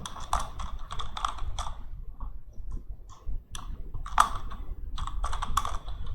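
Fingers typing a profile name on a computer keyboard, close and crisp, in quick clustered bursts of key clicks with brief pauses between, no voice over them.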